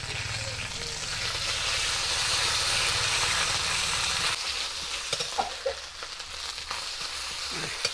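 Ginger paste hits hot oil with frying panch phoron spices, giving a loud steady sizzle for about four seconds that then drops into quieter crackling with a few stirring clinks.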